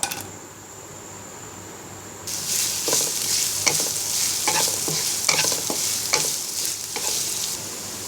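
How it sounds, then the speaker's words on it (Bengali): Chopped onion hits hot oil in a wok and bursts into a bright, steady sizzle, with sharp spatula scrapes and clacks at an irregular rhythm, close and fairly loud. "এবার আরেকটি কড়াইতে পরিমাণ মতো তেল গরম করে আমরা আধা কাপ পরিমাণ পেঁয়াজ কুচি দিয়ে দিব"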